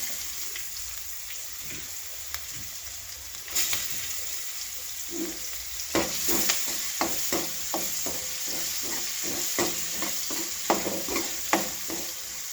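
Onions fry with urad dal and chana dal in hot oil until browning, a constant soft sizzle under repeated scraping stirs of a spoon that grow busier and more rhythmic in the second half, close and fairly quiet.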